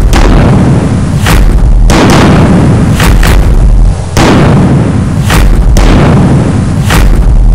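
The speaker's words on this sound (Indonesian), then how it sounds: "Serangan meriam terbesar yang pernah terjadi kala itu pun dimulai." Cannon bombardment at the siege of Constantinople: heavy, very loud booms fire roughly every two seconds, each rolling into a long rumbling decay, with smaller bursts between them.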